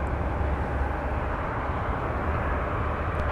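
An Airbus A330-900neo airliner at MSP airport spooling up its engines, a broad steady roar with a low rumble that stays even and sustained, heard from a distance without speech.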